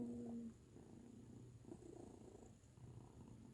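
A cat purring steadily and softly up close, a low continuous rumble with no talking.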